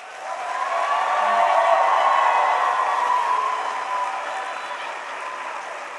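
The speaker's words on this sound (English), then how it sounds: "if we can give everybody one more round of applause" Audience applause for teachers at a Teacher of the Year celebration: sustained broadband clapping from a sizable crowd that swells over the first two seconds, holds steady, then eases slightly toward the end.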